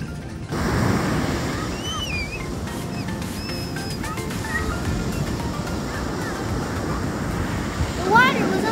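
Ocean waves breaking on a Miami beach, a broad rushing surf roar mixed with wind buffeting the microphone, while high bright voices call out over it, rising near the end.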